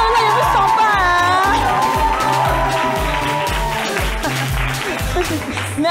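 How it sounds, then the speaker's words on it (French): Studio audience applause on a French evening television talk show, loud and sustained for about six seconds, with a rhythmic music bed under the clapping and people talking over it. "Applaudissez fort!"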